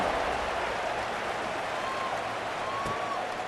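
A stadium crowd roars steadily at a football kickoff, a dense, continuous wash of cheering and applause with no break, sounding broad and somewhat distant throughout.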